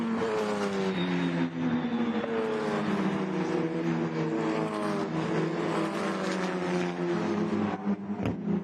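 Formula Regional open-wheel race cars scream around a road course during a sprint race, their high-revving engines loud and continuous, rising and falling in pitch as they shift and pass close by.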